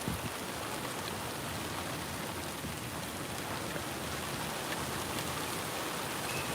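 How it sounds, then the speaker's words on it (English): Rain picks up at SpaceX Starbase in Boca Chica, Texas, a dense, even downpour of drops pattering on surfaces for the whole stretch, close and unbroken, with nobody speaking. "It just picked up raining here."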